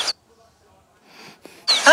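A cartoon steam engine sneezes from sneezing powder up its funnel, a sharp burst at the start and again near the end, with breathy noise between.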